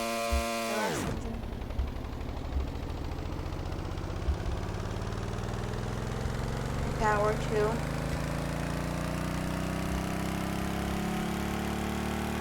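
A high-RPM engine in the Stormworks game drones steadily after a sharp drop in pitch at the start, a continuous mid-level whine with a rising tone, while a voice talks over it.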